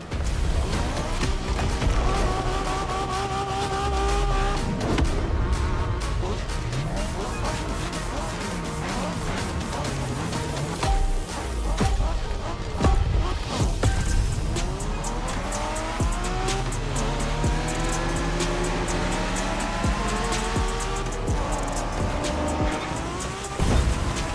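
A car in a Japanese-style street racing video game, engine roaring and shifting up through gears, with repeated tire squeals, skids and a crash thump, loud and continuous.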